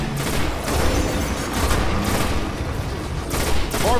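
Rapid gunfire and booming blasts from a firefight against Fallen Shanks in the 2013 prototype of the video game Destiny, loud and continuous with dense bursts of shots throughout.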